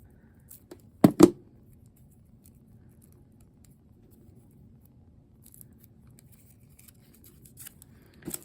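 Scissors snip through folded dictionary paper to cut out a paper flower, giving two quick close crisp snips near the start, then a quiet stretch with faint paper rustles and a last small snip at the end.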